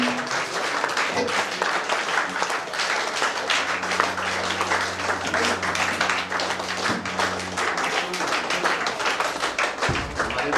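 An audience at a college tree-planting event claps loudly and without a break to welcome the vice chancellor, with a low hum running underneath.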